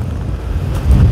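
Wind buffets the microphone as stormy sea waves wash against a beach, a brief low rushing roar that surges louder toward the end.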